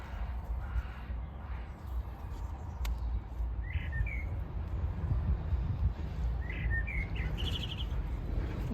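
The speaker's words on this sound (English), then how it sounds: "I just like to be out here enjoying the birds." Small birds chirp and tweet in a garden in short scattered bursts, some single notes and some quick trills, moderately distant over a steady low outdoor rumble, with no talking.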